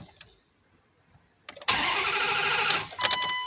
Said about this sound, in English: So what you want to do is turn on the car.